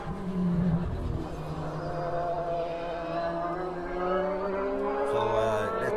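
A Formula BOSS race car passing through the chicane at Kirkistown during qualifying, its engine droning steadily at mid distance with rising and falling pitch as it brakes and accelerates, under a commentator's voice.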